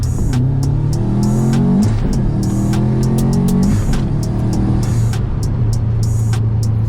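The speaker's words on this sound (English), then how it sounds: "I'm gonna go bang through some gears real quick" A car, likely a Mitsubishi Lancer Evolution VIII, revs hard up through the gears. Engine pitch climbs and drops at each shift, several times in a row, loud and close, with no voices.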